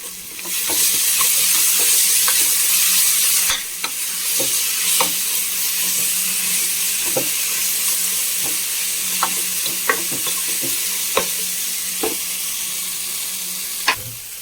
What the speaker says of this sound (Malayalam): ഒരു സ്പൂൺ കൂടി നെയ്യ് ഒഴിച്ച് കൊടുക്കാം.